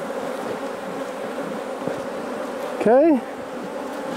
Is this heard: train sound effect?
no